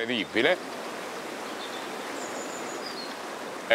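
A river flows through a gorge, a steady soft rush of water heard from a moderate distance, with a brief voice at the start and faint birds in the background.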